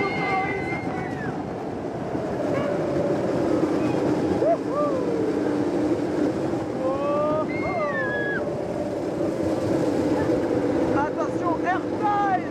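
A Boomerang roller coaster at Walibi Sud-Ouest rushes along with a steady, loud blower-like roar of wind that continues throughout, while riders' voices cry out intermittently.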